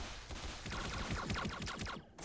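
Dense, noisy video game gunfire, a rapid jumble of shots blending into a continuous clatter that cuts off abruptly near the end.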